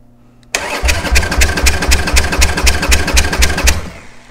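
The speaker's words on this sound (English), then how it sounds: "show you a cranking compression test with the throttle closed" A Harley Davidson motorcycle engine cranking over on the starter with the throttle closed during a compression test, a loud, steady rhythmic chugging of regular compression pulses lasting about three seconds before stopping.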